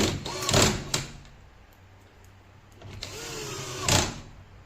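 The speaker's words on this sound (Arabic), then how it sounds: "ونروح جايين قافلين كده الدرج بتاعنا" A drawer on a desk-shaped safe with secret compartments is pushed shut, giving two separate sliding rumbles, each ending in a sharp clunk, with a quieter pause between them.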